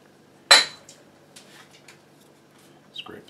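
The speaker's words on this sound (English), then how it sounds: "scrape this guy off again" A metal utensil scrapes butter off a spoon in a cast iron cooking kitchen, one sharp clink and scrape followed by a few softer scrapes and a final faint clatter.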